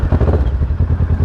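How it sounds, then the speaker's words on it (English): Kawasaki Versys 650 motorcycle fitted with a Two Brothers exhaust, a loud close engine note pulsing in quick rhythmic bursts, heard alone without talk. "Listen to that Two Brothers exhaust system"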